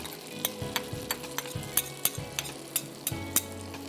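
Crushed garlic sizzling in butter in a pan, a steady close frying hiss punctuated by regular light clinks and taps of a spoon stirring, about a dozen strokes with no talk.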